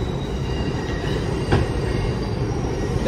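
A New York subway train rolls slowly through a station, loud and continuous rumble with wheels squealing and a sharp metallic screech mid-way, no voices.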